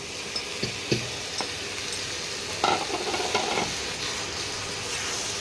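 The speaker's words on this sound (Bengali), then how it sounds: "এবারে এর সঙ্গে মাংসটার সঙ্গে বেগুনটা ভালো করে মিশিয়ে নেব" Peeled roasted eggplant is stirred into salted meat cooking in a pan for a begun bahar dish. Steady sizzling runs throughout, with soft scraping strokes and a few light clicks of the spoon against the pan.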